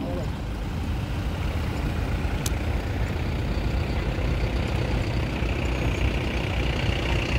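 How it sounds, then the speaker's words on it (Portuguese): A truck driving up onto a large river ferry, a steady low engine rumble close by with a constant droning hum, with someone talking over it. "Vamos ver a subida desse caminhão aqui"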